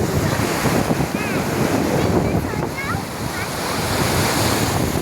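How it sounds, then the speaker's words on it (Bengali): Sea waves breaking and rushing onto the beach at Digha, a steady loud roar of surf with wind buffeting the microphone throughout; a few faint voices carry in the background. "একটা বড় ঢেউ আসবে আচমকা, তুমি আর ওইদিকে যেও না।"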